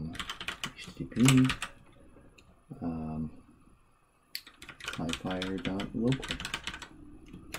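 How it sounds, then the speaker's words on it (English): Keys clack on a computer keyboard as a web address is typed, in short bursts of quick taps set between stretches of nearby speech. "go to your browser of choice and type in"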